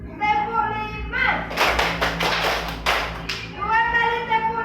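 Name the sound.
rhythmic group hand clapping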